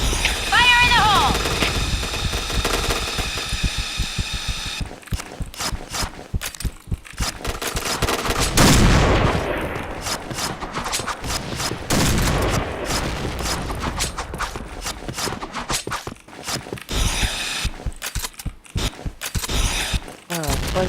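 Bursts of rapid gunfire ring out in a shooting video game, the shots clustering into loud repeated volleys with a dense blast midway, cut by brief gaps and layered over steady game noise.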